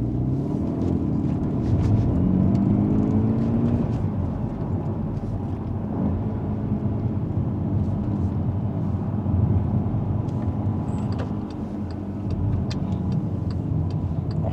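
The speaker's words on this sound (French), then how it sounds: "On va essayer, après que le feu soit passé au vert, de vous faire écouter l'échappement." A Volkswagen Golf 6 GTI Edition 35 exhaust heard from inside while pulling away slowly from a traffic light, a steady low rumble with mild rises, moderately loud and without talk.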